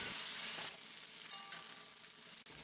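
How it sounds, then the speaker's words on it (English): Beef tips stir-fry in a pan with a loud, continuous close sizzle and the scrape of a spatula, alone without talk, ending in a brief dip. "keep stir-frying the beef for at least 10 to 15 minutes, or even more than that"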